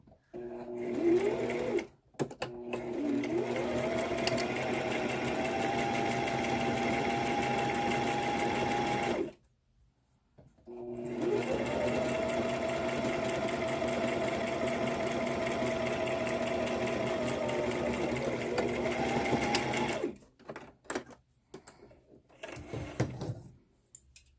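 A sewing machine top stitches along the bottom edge of a fabric face mask, running in two long, steady whirring stretches with a brief pause between and short clunks at the start and end, close and loud.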